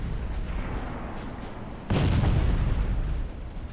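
Naval battleship gunfire in the Ultimate Admiral Dreadnoughts game, a steady rumbling barrage that swells into a heavier, louder boom partway through and holds for about a second before easing back, with no voices.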